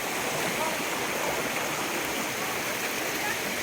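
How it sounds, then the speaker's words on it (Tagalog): Kasili Falls in Northern Samar pours as a dense, continuous roar of falling water, loud and steady throughout with no pauses. "Kasili Falls sa Northern Samar."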